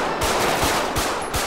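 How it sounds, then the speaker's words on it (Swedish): Rapid bursts of gunfire in GTA 5, several sharp shots in quick succession over a dense, continuous background of noise. "Skott avlossade."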